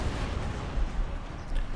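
Cannon artillery firing across a battlefield in Empire: Total War, heard as a continuous rumbling barrage of overlapping booms with heavier low thumps, dense and steady throughout.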